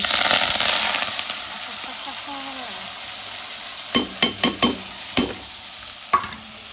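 Ginger and garlic fry in a pan for a peppery prawn curry, a steady close sizzle that fades slightly, followed by a quick series of sharp spoon knocks against the pan as it is stirred.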